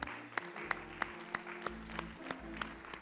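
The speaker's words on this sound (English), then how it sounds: "Give the Lord a hand clap of praise." A church congregation at Sunday service gives a hand clap of praise: soft, evenly spaced claps in a steady beat over sustained musical tones, fairly faint and distant.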